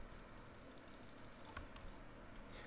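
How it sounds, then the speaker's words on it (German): Soft, quick keyboard typing and mouse clicks at a computer, faint and steady under a low background hum, with a slightly louder click cluster in the middle. "sorry, falls man meine Tastatur und Maus ein bisschen laut hört"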